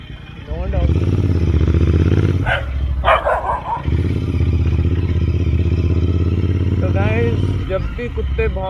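A dog barks in several sharp bursts over the steady rumble of a nearby motorcycle engine.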